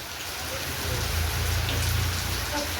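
Heavy rain pours steadily, a dense continuous hiss of drops striking surfaces nearby, growing slightly louder midway.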